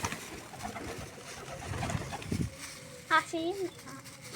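Pigeons coo softly in short low phrases during a lunchtime feeding, close by, with rustling and a person talking earlier.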